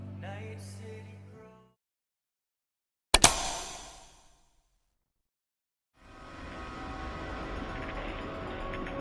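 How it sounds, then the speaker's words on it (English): A train sound in a Geometry Dash level starts as a sudden loud burst of noise, cuts out, then returns as a steady rumbling wash with tonal layers, following a musical opening and a pause. "Something about the train just gives me vibes."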